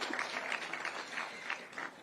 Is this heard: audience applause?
yes